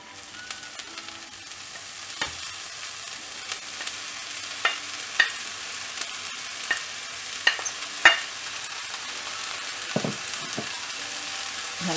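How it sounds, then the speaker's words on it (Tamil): Onions and ponnanganni greens fry and sizzle in a pan for a steady stretch, with a spoon or spatula scraping and knocking at irregular intervals, close and moderately loud. "வெங்காயம் நல்லா வதங்கன உடனே இப்போ கீரை ஆட் பண்ணிரலாம்"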